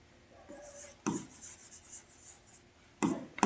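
Short bursts of chalk or marker strokes scratching across a board, faint and close, in a few separate strokes with quiet gaps between them.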